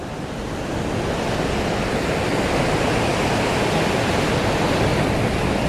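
Rough sea surf pounds Shanghumugham beach in rainy weather, a dense, loud, unbroken roar of breaking waves with wind noise and no voices.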